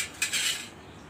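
A spoon clinks against a bowl while stirring red food colouring into tutti frutti pieces made from watermelon peel, giving a brief close-up scrape and rattle.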